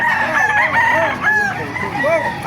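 Rooster crowing at a busy chicken market in Baliuag, several drawn-out calls overlapping with clucking from nearby fowl, fairly loud against a steady crowd murmur.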